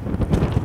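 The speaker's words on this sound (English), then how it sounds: "Oh man, nice gust of wind." A strong gust of hot desert wind on a 116°F day buffets the microphone outdoors near a chicken waterer: a loud, close, continuous low rumble with no voices.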